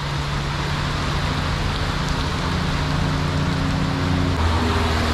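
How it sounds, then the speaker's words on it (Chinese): Steady rain falls on a road during a slow ride through the Cameron Highlands, with a dense, even wash of hiss and low traffic rumble underneath and no talk. "还下雨啊，够了就是。"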